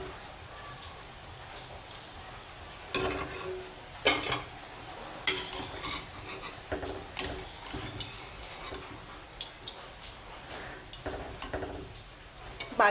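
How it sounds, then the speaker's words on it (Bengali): Fried raw papaya koftas being lifted out and placed into a bowl, giving repeated light clinks and scrapes of utensil against metal over a background of sizzling oil, with faint talk at times. "এবার আমি একটা পাত্রের মধ্যে তুলে নেব"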